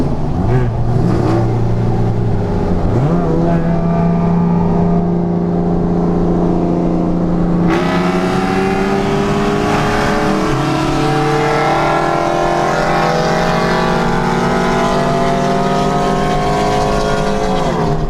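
Chevrolet Cobalt SS with a misfire accelerating hard on a street racing run, engine revving loud and close through rising gear pulls with shifts, steady and continuous throughout.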